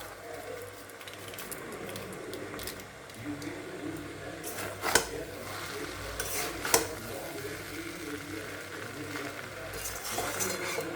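Soya chowmein seasoned with Maggi masala is stirred and tossed in a pan, giving a steady scraping and mixing texture over a low sizzle, with a few sharper clinks of the utensil against the pan.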